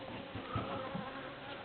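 Bees buzzing around hives at a small apiary, a steady dense hum close by with no voices.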